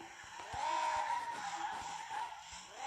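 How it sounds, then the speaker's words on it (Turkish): A car drifting in the video game Car Simulator 2, with a sustained tire skid squeal that rises, dips and returns over a low engine, carrying on for the full stretch. "Ben çok kötü drift atıyorum ya."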